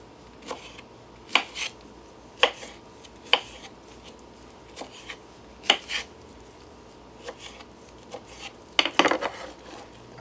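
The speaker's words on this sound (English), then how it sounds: "And just cut it in little chunks." Unpeeled pears being cut into small chunks with a knife for the blender, giving sparse, sharp clicks and taps against a board or dish every second or so, close and alone with no talking.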